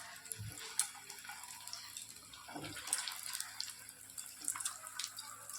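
Cashew-stuffed balls frying in hot oil, a soft continuous bubbling sizzle with scattered light pops and occasional clinks of a utensil, fairly close and quiet, without talk.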